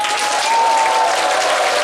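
An audience at a youth music concert claps and cheers on request, a loud, continuous burst of applause with a sustained shouting tone running through it, alone and close.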